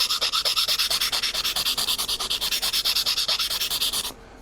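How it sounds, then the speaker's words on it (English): Steady back-and-forth scraping of a sanding stick at a 45-degree angle on a small hard Estes Hi Flier model rocket part, fast even strokes close up, stopping abruptly near the end. "we're just going to take the sandpaper or sanding stick and go about a 45-degree angle."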